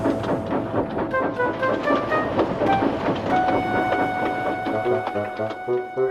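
A cartoon steam engine pulls a goods train out of Tidmouth, with steady rolling wheel clatter and rail noise under a bright musical score, close and continuous throughout.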